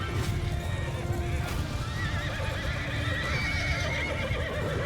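Horses gallop in a steady rumble of hooves in a Mount & Blade II: Bannerlord battle, with whinnies rising over the continuous clatter, sustained and busy throughout.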